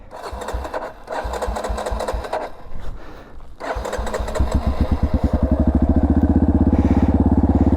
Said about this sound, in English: Gotta keep that bike on while I'm doing this in case I need power.